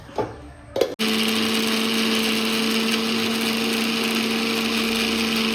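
A mixer grinder grinding dried red chillies and garlic whirs loudly and steadily after a brief start, a high constant motor drone with no talking.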